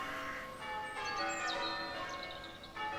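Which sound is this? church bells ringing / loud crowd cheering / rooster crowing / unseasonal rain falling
church bells ringing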